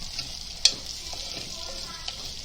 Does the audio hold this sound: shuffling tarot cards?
no